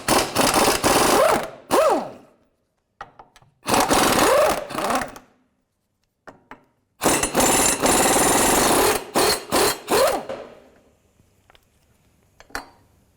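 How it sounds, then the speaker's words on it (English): Bursts of an air impact wrench drive a 19mm socket on the lower control arm bolts and nut of a 2005-2009 Subaru Outback, several loud hammering rattles of a second or more each, separated by short gaps and faint clinks. "we're going to remove the two bolts here and then the nut to the rear lower part of the lower control arm"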